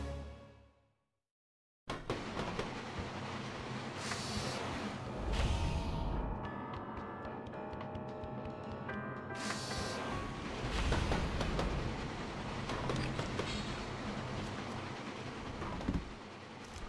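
Northbound L train running in the Batman Vengeance video game: a steady, loud rumble of wheels on rails with a rushing, wave-like roar that rises and falls, beginning suddenly after a short silence and continuing throughout without speech.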